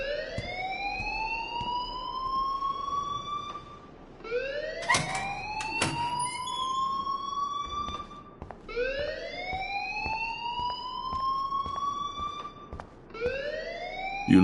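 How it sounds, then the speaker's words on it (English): Repeating electronic alarm in a school in Life is Strange: rising whooping tones cycling about every four seconds, loud and steady, with occasional clicks and beeps between sweeps. "please turn off that alarm since that's your job"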